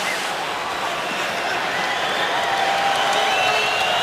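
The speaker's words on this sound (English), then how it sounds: "Fans cheer the effort of the Flames" A hockey arena crowd cheers and applauds the Calgary Flames during a game against the New York Rangers, a broad, steady roar that holds loud for the whole stretch with no single voice standing out.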